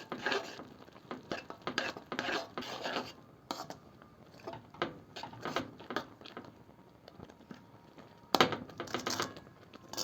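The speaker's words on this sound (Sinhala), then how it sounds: "කිරි පිටි ටිකකුත් එකතු කරලා ආයෙත් ඔක්කොම ටික හොඳට මිශ්‍ර කරගන්න ඕනේ" Spoon scraping and stirring through thick pink coconut toffee mixture with milk powder in a pan, repeated rasping strokes and light metallic clinks in an irregular rhythm, close and alone.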